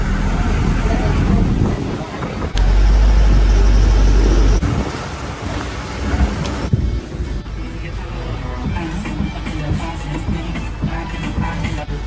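An ATV engine roars and rumbles continuously while driving, loud and close, with wind buffeting and voices underneath, on a buggy tour in Punta Cana, Dominican Republic.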